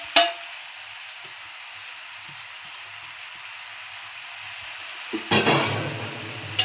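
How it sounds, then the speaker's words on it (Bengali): Green peas frying with salt, turmeric and sugar in a pan for a cabbage curry, a steady soft sizzle under light stirring that swells into a louder hiss near the end. "মটরশুঁটিগুলো দিয়ে দিলাম, আমি নুন, হলুদ, চিনি মধ্যে দিলাম।"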